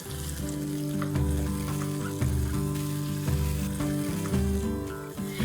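Steady, close sizzling of finely chopped tomatoes frying in a pan, with faint stirring scrapes now and then, no voices.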